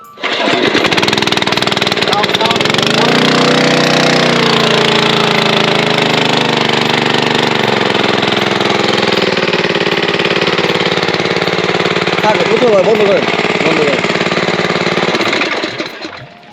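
A Kawasaki two-inch irrigation water pump engine runs steadily and loud throughout, a continuous droning chug from start to finish, with someone talking over it.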